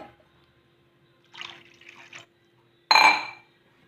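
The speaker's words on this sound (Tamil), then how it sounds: "நல்லா வதங்கினோடனே தேவையான தண்ணியை ஊற்றுங்க." Water poured into a pan while making instant rava kichadi, with a short splashing pour around the middle and a louder, brighter burst of liquid near the end, close by and with no talk.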